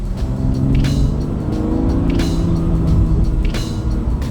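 A BMW car drives along a road on a test drive, its engine rumbling steadily with low road noise and occasional surges as it moves.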